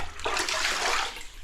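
Water splashed out across a dusty floor before gluing, a short whooshing spray and splash lasting about a second, close and fairly loud, without talk.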